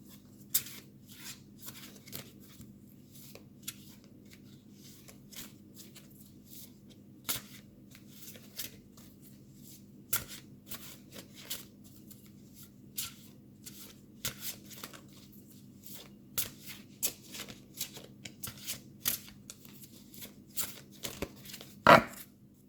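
Oracle cards shuffled for a reading: faint, irregular papery riffles and taps over a low steady hum, scattered across a long quiet stretch with a sharper snap near the end.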